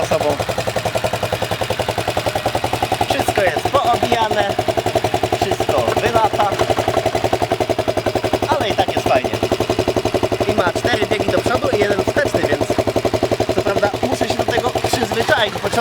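A Shineray 250 quad bike engine idles close by with a rapid, even chugging pulse and a slight knock, running steadily throughout while someone talks over it.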